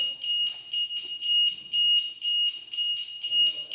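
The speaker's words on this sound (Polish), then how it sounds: "Alarm. Trzeba iść po kluczyk." A motorcycle's security alarm sounds during winter care of the bike, a steady high electronic tone pulsing in quick repeated bursts throughout, fairly close and alone.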